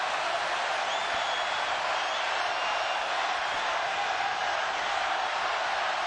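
A big baseball stadium crowd at a packed major-league game gives off a steady, dense roar that stays loud and even throughout, with no single voice standing out.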